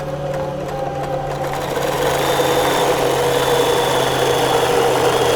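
A SEWTECH embroidery machine stitches out a design, a steady close mechanical hum with fast rhythmic needle chatter that grows slightly louder after the first couple of seconds and runs continuously with no talking.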